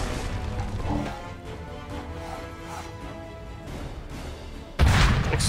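Explosion in the video game Assassin's Creed 3, a sudden loud broadband blast arriving near the end after several seconds of busy game noise and scattered impacts.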